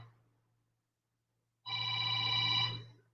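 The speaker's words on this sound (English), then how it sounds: "my phone ringing" A phone rings with a bright, tonal electronic ringtone that starts abruptly after a near-silent stretch and holds steady and loud for about a second, over a constant low hum.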